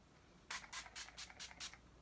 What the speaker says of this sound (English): This is the Avon Set and Prep Spray.